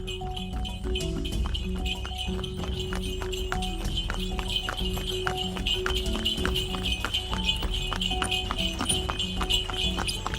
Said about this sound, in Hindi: करण अपना तांगा चलाना शुरू कर देता है